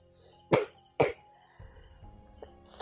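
Out on a mountain trail, a person gives two sharp, close coughs about half a second apart, followed by faint rustling and a quieter catch of breath in otherwise near silence.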